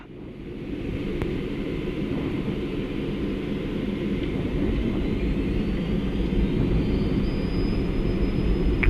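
Cessna Citation CJ1 jet taking off, a loud steady jet engine roar building in the cockpit with a rising whine as thrust holds.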